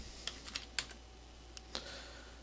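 Keys on a computer keyboard tap out a password in a few quiet, uneven clicks, spaced irregularly over a faint room hum.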